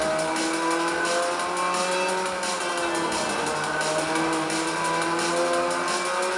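A racing car in Forza Motorsport 3 drives at speed, its engine holding a steady loud drone with rising and falling revs throughout, close and continuous with no talk over it.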